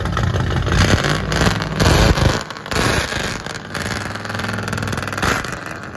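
A 1970 Buick Electra with a 455 big block V8, true dual exhaust and long tube headers, rumbling loudly at close range with a lumpy idle and a few bursts of revving.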